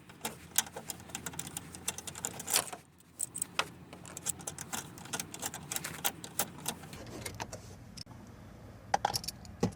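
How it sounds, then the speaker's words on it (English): A 7mm bolt being worked out of Chevy Impala dash trim: quick, close, light metallic clicking in irregular runs, like a small ratchet turning, with no speech. "So just go ahead and remove the last remaining 7mm bolt."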